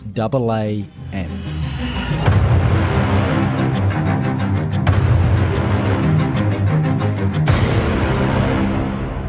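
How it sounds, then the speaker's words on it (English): A huge, deep cinematic trailer braam: a brass blast hits and sustains under a dense orchestral swell, with sharp accented hits punctuating the roar. "And how could we forget about the classic BRAAM?"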